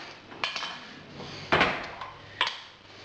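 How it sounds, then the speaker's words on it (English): A spoon stirring in a cooking pot for sticky pork ribs, with scrapes and three sharp metallic knocks against the pot, close and clear, with no talking. "A bit of a stirry spoon here"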